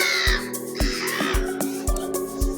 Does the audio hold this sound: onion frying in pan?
no